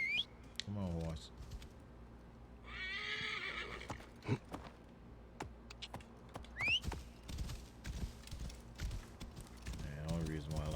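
A horse in the video game Assassin's Creed Origins whinnies and neighs several times amid clopping hooves and clicking sounds, with game effects and occasional brief bursts of other sounds.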